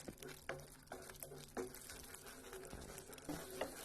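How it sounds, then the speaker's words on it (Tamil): A milk cake mixture stirred in a pan until dry, with soft, faint scraping strokes and a gentle bubbling sizzle repeating every half second or so, no talking. "இன்னும் நல்லா ட்ரை ஆகிற வரைக்கும் இதை நம்ம மிக்ஸ் பண்ணிகிட்டே இருக்கணும்."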